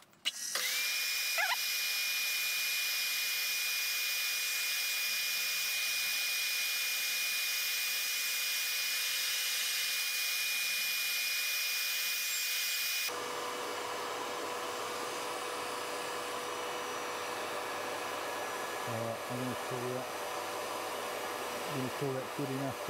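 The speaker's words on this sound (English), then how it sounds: "the vacuum cleaner is very loud" A loud vacuum cleaner running in a workshop drones continuously, a high-pitched whining motor hum with broadband hiss, changing tone partway through and continuing without pause.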